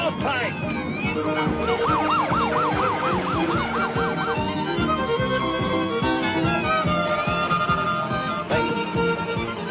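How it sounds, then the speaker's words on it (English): A siren wails in fast rising and falling sweeps over a busy mix of traffic and other loud noise, steady throughout. "is that a siren I hear?"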